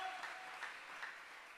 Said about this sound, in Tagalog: Lahat tayo magbigay palakpak sa ating mahal na Panginoon.